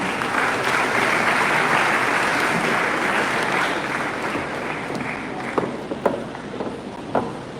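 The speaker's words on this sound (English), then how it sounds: "Ladies and gentlemen, with a round of applause, please welcome His Excellency Daniel." Dense applause from a crowd fills the room, steady at first then thinning out into scattered claps toward the end.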